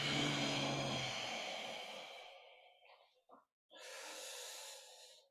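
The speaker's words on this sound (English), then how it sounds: "breathing out." A long, breathy exhale during a martial-arts-style yoga warm-up fades out gradually, followed by a few soft short puffs and then another steady rush of breath, close and alone.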